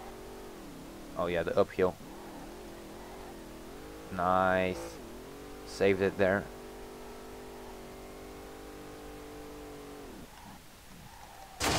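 A car engine in the racing game SLRR drones steadily while drifting downhill, holding a sustained, fairly loud tone with slight revving shifts beneath bursts of someone talking.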